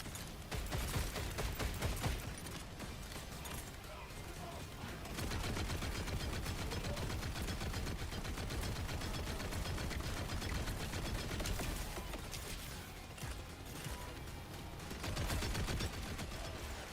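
Sustained rapid gunfire from the Hellwalker weapon in a video game, a dense continuous rattle of shots running for many seconds with brief dips, loud and unbroken, with no speech.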